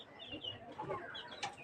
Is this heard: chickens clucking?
yes